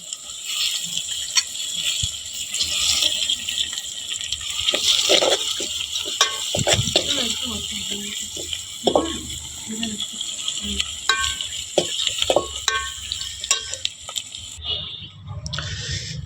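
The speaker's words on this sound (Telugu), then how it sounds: "ఇట్లా ఉల్లిగడ్డ మంచిగా వేయించుకోవాలి" Onions fry in oil for mutton curry over a wood-fire stove, with a steady close sizzle broken by stirring scrapes and clatters for the whole stretch, and almost no talking.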